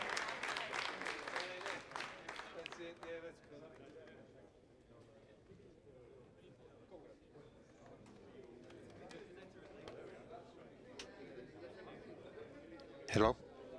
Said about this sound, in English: More cheering.